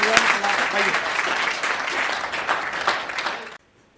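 Loud applause from an audience for Pradeep Chaubey at a Hindi comedy poetry recital, dense clapping mixed with voices, sustained for several seconds before cutting off abruptly.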